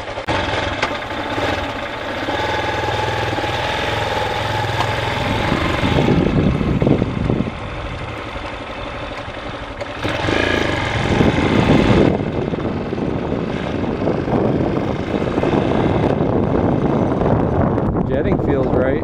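A 2019 Bashan Brozz 250 dual-sport motorcycle engine runs steadily nearby, with its loudness rising and falling as the throttle changes, while wind buffets and a person talks over it.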